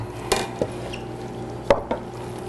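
Meat and onions are spooned into a casserole dish, a few sharp spoon-on-dish clinks and scrapes spaced out over a quiet kitchen background, close by, with no talking.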